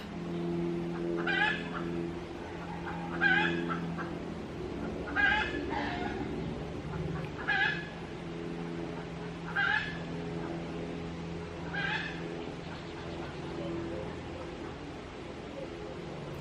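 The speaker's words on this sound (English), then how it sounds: "The chickens are really going off." Chickens clucking in bursts roughly every two seconds, each call clear and fairly close, over a steady low droning hum with faint background sound.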